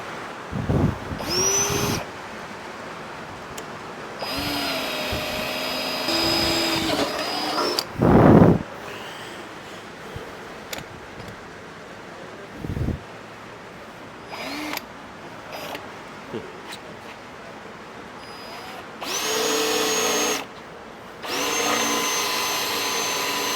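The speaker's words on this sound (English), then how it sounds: "now we can actually try to get this thing drilled out" Power drill boring into a steel Peterbilt truck frame in a shop, several whining bursts of a few seconds each with pauses between, fairly close and loud, with clunks and handling noise.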